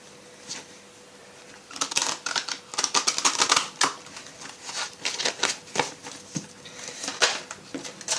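Oracle cards shuffled by hand, a faint pause and then rapid bursts of crisp riffling and flicking clatter in uneven clusters, close and fairly loud, no talking.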